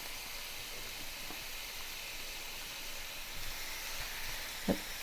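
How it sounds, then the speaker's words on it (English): Half a pound of Italian sausage sizzles in a pan over medium heat, a steady, soft broadband hiss running throughout with a brief louder crackle near the end and no talking. "So now we're gonna put in 1/2 pound of Italian sausage, just a half."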